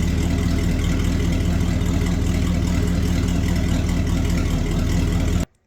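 A 1972 Ford F750 truck engine idles with a loud, steady low rumble and a constant mechanical drone, running evenly until it cuts off abruptly near the end.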